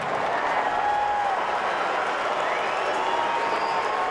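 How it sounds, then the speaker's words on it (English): Baseball stadium crowd at a Cardinals game against the Cubs, Cardinal fans cheering and Cub fans booing in a continuous loud roar of mixed cheers, boos and applause. "So you've got Cardinal fans cheering, and there are Cardinal fans here. You've got Cub fans booing"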